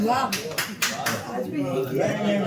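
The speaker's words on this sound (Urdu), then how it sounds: "ایک آدھی تالی سے کام نہیں چلے گا بھائی." Scattered handclaps from a mushaira poetry gathering audience, a few distinct claps at the start followed by someone speaking over the sparse applause.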